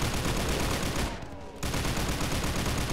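Dense, continuous gunfire fills a shooter video game, a loud sustained barrage of shots that drops out briefly midway before resuming just as heavily.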